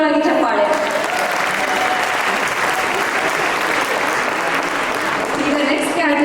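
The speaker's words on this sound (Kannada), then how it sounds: "ಇನ್ನೊಂದು ಬಾರಿ ಜೋರಾಗಿ ಚಪ್ಪಾಳೆ." A seated audience claps loudly and continuously during a prize announcement at a Ganesh Chaturthi cultural program, the dense applause holding steady from start to finish.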